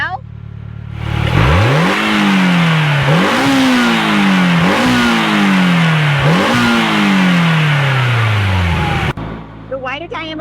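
A 2025 Polaris Slingshot in Slingshot mode revs its engine repeatedly, four or five sharp climbs in pitch that fall away between blips, loud and close, then cuts off abruptly.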